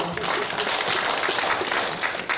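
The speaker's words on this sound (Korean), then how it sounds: "박수하겠습니다." Audience applause at a pastors' couples seminar in a Korean church, a dense, steady wash of many hands clapping close by, continuous and loud throughout without any talk over it.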